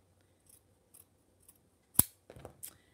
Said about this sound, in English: now I'm cutting around the zigzag to trim it, take off the excess